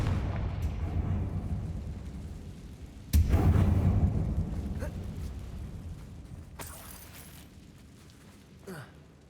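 A Confringo spell in the Hogwarts Legacy video game bursts with a loud, sudden booming explosion that rumbles and fades over several seconds, preceded by a low steady roar and followed by a later crackling hit.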